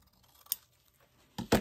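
A few quick, sharp snips from scissors trimming decorative craft material, close and crisp with quiet gaps between cuts and a louder double snip at the end.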